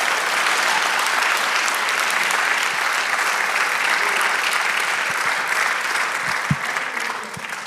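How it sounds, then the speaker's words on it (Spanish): Church congregation applauding during a service, loud and continuous dense clapping throughout, with a few low thumps near the end. "Dele un aplauso al Señor."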